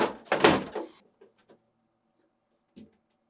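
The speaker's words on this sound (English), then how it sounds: "To install the lower drawer, insert it at an angle, making sure it sits beneath the support glide rail." The lower freezer drawer of a GE French door refrigerator is fitted into place, giving a clattering plastic-and-metal scrape for about a second, then a few faint light knocks and a final soft clunk.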